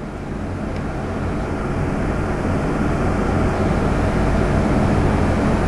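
A twin mirror-image turbocharged 632 big-block Chevy engine roars at full load on a dyno on pump gas, a dense, loud, sustained rumble that holds steady and builds slightly.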